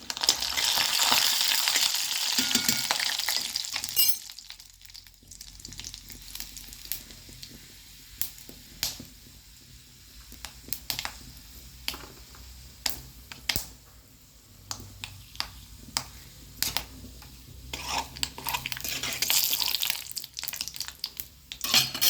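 Mustard seeds and urad dal fry in a pan, opening with a loud rushing sizzle that fades into quieter frying dotted with sharp, irregular pops and crackles, ending in another swell of sizzling.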